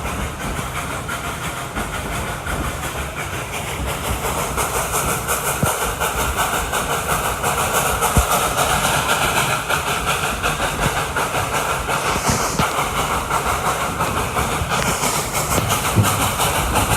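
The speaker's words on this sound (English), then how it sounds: "Listen to the engine that goes up and down." A Dollywood steam train engine runs with a loud, continuous hissing chuff and mechanical rumble that builds slightly after the first few seconds and holds steady, with no talking.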